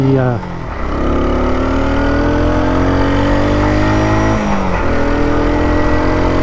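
A 1984 Honda Trail 110 motorcycle engine runs loud and close on a road, its pitch climbing steadily as it accelerates, dipping briefly at a gear change and then rising again.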